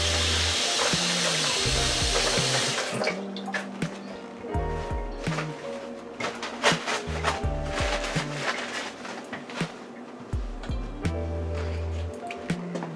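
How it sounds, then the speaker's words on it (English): Hands are rinsed under a running kitchen tap while sweet potato cobbler is being made: a loud, steady rush of water for about three seconds, then scattered clatter and intermittent voices. "Let me wash my hand."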